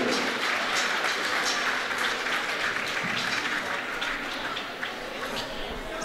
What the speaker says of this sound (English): Ladies and gentlemen, a nice round of applause for our 7th and 8th grade players from Boardman